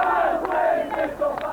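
Football crowd of more than 47,000 at the Wear-Tyne derby at the Stadium of Light, a dense, steady roar of many voices with brief swelling shouts rising out of it.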